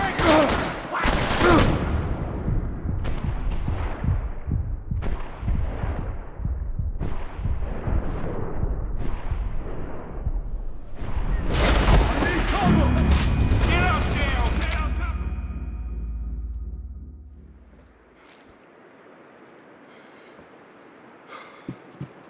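Max Payne 3 shootout: repeated heavy gunshots and rapid bursts of fire ring out over about fifteen seconds amid shouting voices, then fade to a quieter lull with a few scattered shots.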